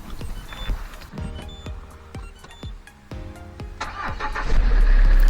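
A car's 12-volt engine cranks in a series of sharp, rhythmic pulses with a portable BSMOOM 4-in-1 jump starter attached, then catches and runs into a louder, steady roar near the end.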